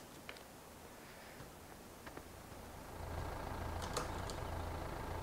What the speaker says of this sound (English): Engine slowly increases.